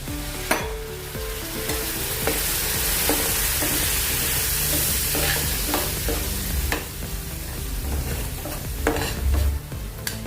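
Sev bhaji masala sizzles and fries in a pan while being stirred, a close continuous hiss punctuated by repeated spoon scrapes and clanks against the pan.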